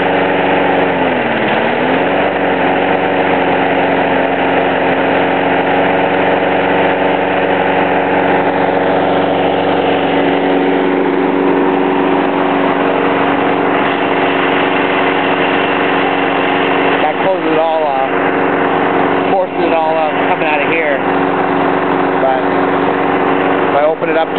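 A 4 hp lawn mower engine runs steadily on wood gasifier gas, its loud, close idle droning throughout with slight speed changes as valves are adjusted, while someone talks over it.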